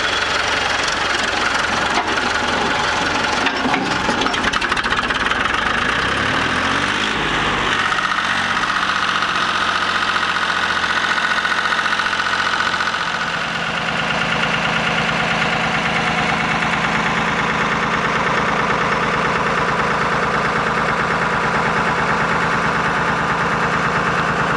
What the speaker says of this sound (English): bump start me with the tractor